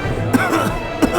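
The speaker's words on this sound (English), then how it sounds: "they're coughing up flour as well" Two short coughs about a second apart from a character in a fantasy audio drama, one of the dough-bodied patients sick with a spreading white illness, heard close over a low sustained background score.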